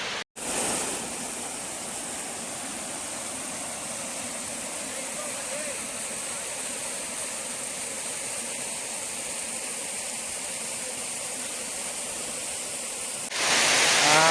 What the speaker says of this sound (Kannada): ಒಂದು ರಾತ್ರಿ ಮಳೆಗಿರೋ ಕಾರಣ ಸೃಷ್ಟಿಯಾಗಿರ್ತಕ್ಕಂಥ ಜಲಪಾತ ಇದು